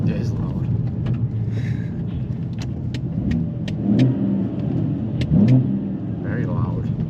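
Car fitted with a custom DPF delete downpipe on a road test, its engine rumbling loudly and surging in two swells of acceleration, with people talking over it inside the cabin.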